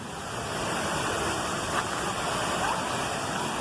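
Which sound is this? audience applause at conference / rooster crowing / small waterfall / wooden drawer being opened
small waterfall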